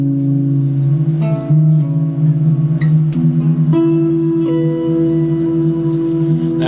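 Acoustic guitar recorded in a living room on a Boss Micro BR80 multi-track recorder, played back with a television in the background: sustained chords and picked notes ring steadily with changes every second or so, close and full, with no talk.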